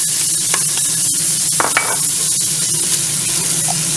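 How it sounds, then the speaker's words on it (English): Garlic sizzling in a pan with cooked bacon for Zuppa Toscana soup, a loud constant hiss with a few spoon scrapes and clinks against the pan. "now we're going to add in the garlic, guys"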